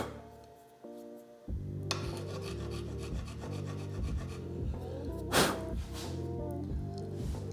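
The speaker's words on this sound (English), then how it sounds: "this is a very fine file, so it's only taking off just the little raised edge of the paint around the outside" A very fine file rasps paint off the mating surface of a budget gravel bike frame, rhythmic back-and-forth strokes close up, over a constant background music bed.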